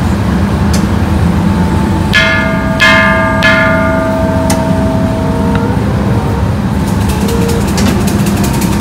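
Temple bells struck at Wat Hua Lamphong in Bangkok, three clear ringing strikes with long harmonic decay over a steady loud city traffic rumble, followed by lighter small bell chimes near the end.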